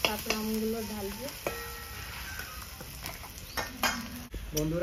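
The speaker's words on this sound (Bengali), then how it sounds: "বন্ধুরা পেঁয়াজ ভাজা হয়ে গেছে," Onions fry in a pan amid a faint sizzle, broken by the clatter and scrape of a spatula against the metal in scattered bursts.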